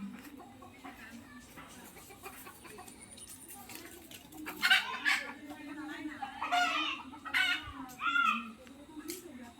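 A rooster nearby gives a series of clucks and short crowing calls in the middle and end, over a quiet outdoor background with a faint steady low hum.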